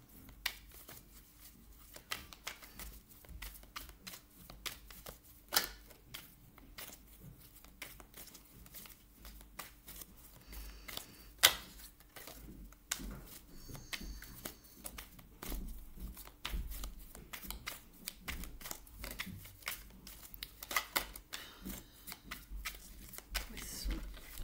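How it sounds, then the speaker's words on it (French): A deck of tarot cards being shuffled close by, producing a stream of soft papery riffles and sharp flicks throughout, with a voice talking quietly at times. "Je remélange bien votre jeu."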